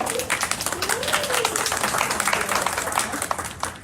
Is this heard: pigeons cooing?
no